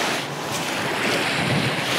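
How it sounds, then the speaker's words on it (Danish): Strong wind roars across the microphone at the reef off Torø, Denmark, with waves and turbulent water surging beneath it in a loud, steady wash. "Der er en rigtig god vind herude på revet i dag."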